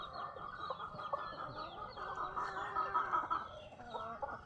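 Chickens cluck and murmur continuously inside a backyard chicken coop, near and moderately loud, with several birds calling over one another in uneven bursts.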